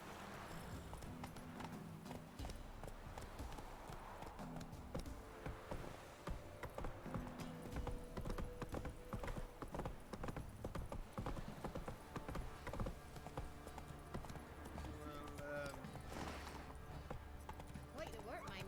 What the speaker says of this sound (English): Por Dios, el caballo.